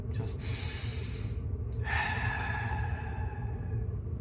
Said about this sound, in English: Take a couple deep breaths and just let it go.